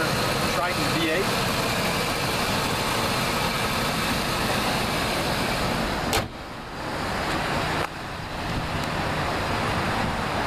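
2002 Ford Expedition Eddie Bauer with its factory 5.4-liter Triton V8 idling, a steady close engine hum with faint traffic in the background and someone talking over it.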